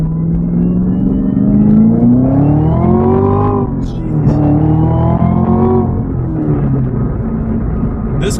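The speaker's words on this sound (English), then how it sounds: "This car is fast." A 2018 Chevrolet Camaro ZL1 engine roars loud and close as it accelerates hard, the pitch rising through two sweeping gear pulls with a brief dip between them, and a short exclamation heard over it.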